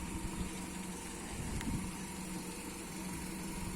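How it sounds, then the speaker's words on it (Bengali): A car's engine hums low and steady at close range while it is backed into a parking spot during driving-school parking practice, with no other distinct sounds. "ব্যাকে নিয়ে গিয়ে পার্কিং করবে।"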